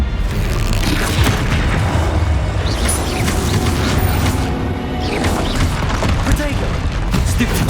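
Explosive Bombarda blasts from spellcasting combat in Hogwarts Legacy, loud crunching booms and crashes packed densely through the whole stretch with continuous rumbling chaos, shouted spell calls mixed in.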